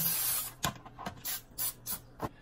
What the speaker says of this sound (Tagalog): So, mag-spray lang tayo dito ng oil para hindi siya dumikit dito sa ating baking pan.